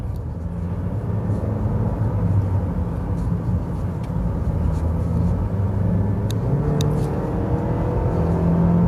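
A Honda Accord G9 with a 2.0-litre engine accelerating steadily at highway speed on a test drive, heard from inside as a continuous low engine drone mixed with road and tyre noise, with no talking.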